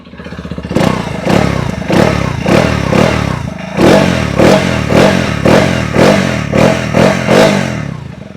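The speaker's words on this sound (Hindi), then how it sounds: "सो अब इसका एग्जॉस्ट भी चेकआउट कर लेते हैं।" A TVS Apache RTX 300 motorcycle running close by, its exhaust thumping in a steady pulsing idle with repeated blips of throttle, loud and alone.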